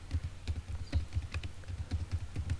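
Python code being typed on a computer keyboard: steady, close keystrokes tapping in an even rhythm, with no talking.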